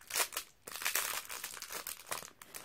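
Crinkly plastic packaging from an advent calendar item, a glitter-backed mirror, being opened up close, with continuous rustling and crackling and a few sharper crinkles.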